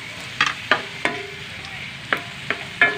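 Food cooking in a pan, with a soft sizzle underneath and a handful of sharp utensil scrapes and clinks from stirring, spaced irregularly and heard up close with no talking.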